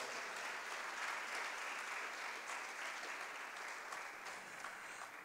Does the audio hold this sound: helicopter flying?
no